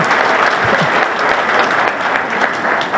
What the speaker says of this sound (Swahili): let's put our hands together to pige makofi mengi sana